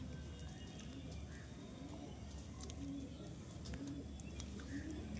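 Soft coos from a sporting pigeon repeat at a steady pace over a constant low background hum, with no talking.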